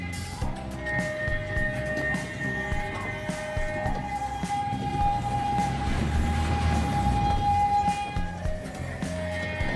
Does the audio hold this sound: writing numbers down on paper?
no